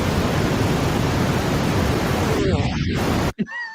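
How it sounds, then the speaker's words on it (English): Steady brown noise fills the clip as a smooth, unbroken rushing hiss with a deep rumble, then cuts off abruptly near the end, leaving a brief, faint trailing sound. "even more soothing than white noise is brown noise"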